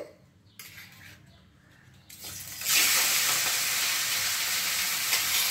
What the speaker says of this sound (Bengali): তেলটা গরম হয়ে গেছে, এবার মাছগুলো দিয়ে দিচ্ছে।